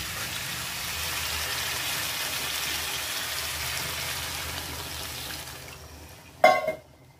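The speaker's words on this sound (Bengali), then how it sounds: "মাংসটা সেদ্ধ হওয়ার জন্য আমি অল্প একটু জল দেব।" Water is poured into browned chicken in a cooking pot, making a steady broad sizzling hiss that fades near the end before a sharp clatter of a utensil or pot.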